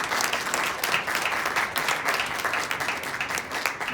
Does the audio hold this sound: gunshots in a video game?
no